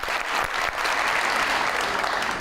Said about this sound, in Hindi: बहुत सारी तालियों में रिस्क कमाली।